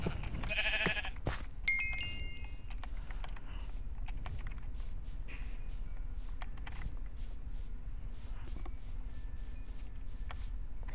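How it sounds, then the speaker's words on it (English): Sheep in the video game Minecraft bleat a few times early on, the calls brief and fairly faint over a steady low game background, with soft clicks and movement sounds following and no talk. "Where is the sheep?"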